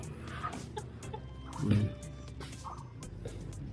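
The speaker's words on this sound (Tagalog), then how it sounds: "Mga pato at saka manok sama-sama dito." Chickens, including heritage breeds, kept together with ducks, clucking in short scattered calls at moderate distance, with one louder close cluck midway over faint background noise.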